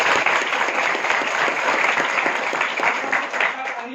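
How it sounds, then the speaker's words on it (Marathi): A large audience at a speech gives loud, sustained applause, dense clapping that holds strong throughout and eases slightly toward the end. "जोरदार टाळ्या त्या दोन्ही"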